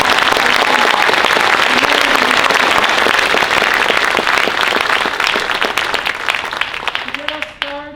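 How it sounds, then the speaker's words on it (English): Audience at a fourth grade moving-up ceremony applauds its teachers with loud, sustained clapping that fills the room, slowly thinning toward the end as a voice begins over it. "Let's give them a big round of applause."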